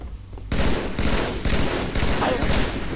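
Rapid bursts of automatic gunfire from a Halo 2v2 match on the Heretic map, loud and sustained in repeated volleys, with a player's voice faintly underneath.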